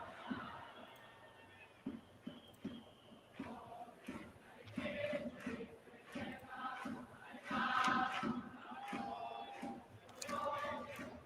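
Distant rhythmic chanting and sung cheers from a stadium crowd of baseball fans at a Marines versus Fighters night game, rising and falling in a steady beat, fairly faint and reverberant.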